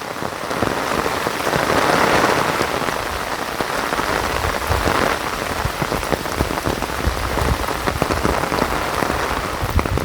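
Steady rain falls outdoors in the Konkan countryside, a loud, dense hiss of drops pattering on surfaces without pause and with no voices.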